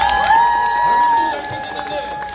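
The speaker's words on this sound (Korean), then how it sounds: "우리 김주현 서구 시민께 뜨거운 박수 부탁드리겠습니다" A crowd at an outdoor election rally cheers and applauds, with shouts and whoops layered over a held musical tone, steady and fairly loud throughout.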